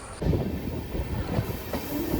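An Amrit Bharat express train rolls around a curve near Kollam, heard from on board as a dense, steady rumble of wheels on rails with faint rhythmic clatter and a thin high squeal.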